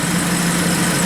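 Car engine idling steadily after a dose of Lucas Oil Stabilizer, warmed up, with a mild rod knock underneath; a continuous close, loud droning rumble with no talk.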